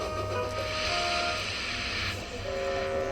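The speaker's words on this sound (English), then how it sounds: "That sounds like a steam engine, he thought." A steady, loud hiss of a steam engine with a whistle-like tone over rumbling rail noise; the hiss cuts off after about two seconds.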